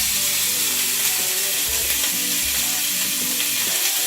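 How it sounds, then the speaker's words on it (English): Burger meat patties frying in hot oil in a pan, a loud continuous close-up sizzle and crackle with low hum underneath and no voices. "You take the meat and you put it in the pan."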